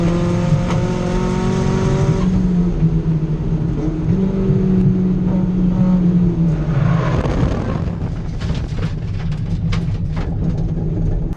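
A Nissan 240SX time attack race car runs hard on a track, its loud engine wailing and shifting, then leaves the circuit in a rough off-track excursion with scraping, gravel-like crunching noise.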